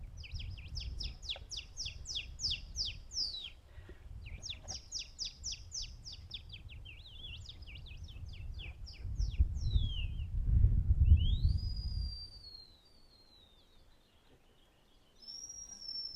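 A person imitates a hawk call with the voice, giving rapid chirping bursts and then sharp rising whistled screeches, fairly close, over a murmuring outdoor crowd at an Earth Day gathering.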